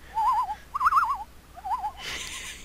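An audio glitch in the Majora's Mask video game, playing during an underwater scene, makes a wavering owl-like hoot that repeats three times in clear, tonal warbles, ending with a burst of hiss.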